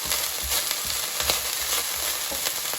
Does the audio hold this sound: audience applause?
no